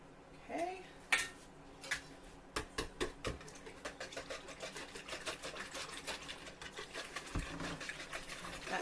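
Two eggs being whisked in a bowl, a rapid clicking patter of a whisk against the sides, close and fairly quiet, starting with a few separate taps before settling into fast continuous strokes.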